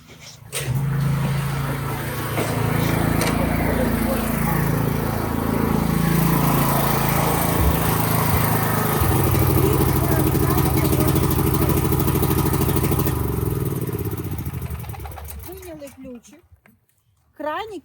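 A portable generator engine runs loudly and steadily close by outdoors at an emergency support point, a rough droning rumble that holds for most of the clip and then winds down and stops near the end.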